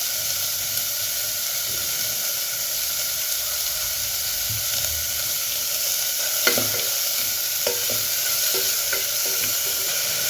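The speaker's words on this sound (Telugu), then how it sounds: "పచ్చివాసన పోయే వరకు ఉల్లిపాయల్ని వేయించుకుందాము" Salted onions fry in a pan with a steady close sizzle, while a spoon stirs and taps against the pan now and then in the second half; no voices.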